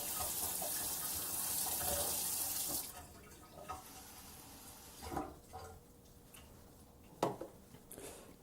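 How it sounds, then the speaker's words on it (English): Hot water running from a kitchen tap, a loud hissing rush for the first few seconds that stops abruptly, followed by quieter drips, clinks and handling knocks. "I'm going to go ahead and run some hot water"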